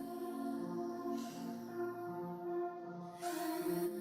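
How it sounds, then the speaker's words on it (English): Ambient reverb washes over a sustained mix of vocals and instruments, with steady tonal layers and a soft airy tail filling the space. No talking is heard. "The first one is this ambient reverb for the vocals or the instruments."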